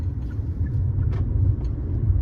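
Steady low rumble of a car moving smoothly on a highway after a gear change to second, a continuous near engine and road drone with faint higher ticks, no talk.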